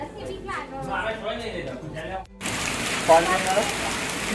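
Heavy rain mixed with large hailstones pelting down outdoors, a dense steady clatter that swells suddenly midway and continues loud, with a person talking over it early on.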